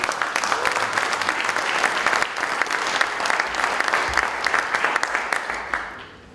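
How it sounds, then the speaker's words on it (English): Sustained audience applause fills the room at a formal address by a US ambassador, dense clapping holding steady for several seconds before tapering off at the end. "give yourselves a round of applause."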